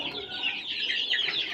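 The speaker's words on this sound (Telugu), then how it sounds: "పెద్ద పెద్ద కోళ్ళు, చిన్న కోళ్ళు అయితే బయట అయితే వదిలేస్తాము" Chickens on a small poultry farm cluck continuously at a moderate distance, with overlapping calls forming a busy, steady chatter.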